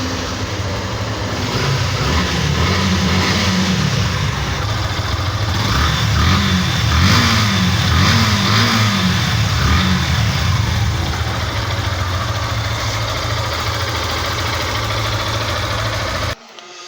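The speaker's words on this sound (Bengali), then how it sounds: "বাইকের সাউন্ড কোয়ালিটিটা আপনাদেরকে পিকআপ ছেড়ে দিয়ে এবং টেনে দেখালাম আপনাদেরকে।" A 2022 Yamaha FZ V2 motorcycle engine rumbles loudly up close, idling and then revving in rising and falling surges before cutting off abruptly near the end.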